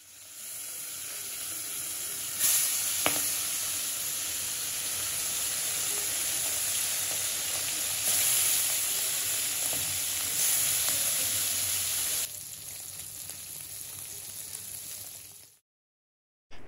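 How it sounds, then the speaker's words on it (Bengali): Fresh fish fries crisp in hot oil, giving a loud, steady, close sizzling hiss that holds for several seconds. The sizzle then drops to a quieter crackle and cuts off near the end. "তাই একটু মুচমুচে করে কয়েকটা মাছও ভাজি করলাম।"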